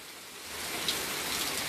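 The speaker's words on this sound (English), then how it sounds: "Oh, and it's raining even harder too." Heavy rain pours steadily outdoors during a storm with strong wind, a dense, continuous hiss that swells slightly louder, with no voices.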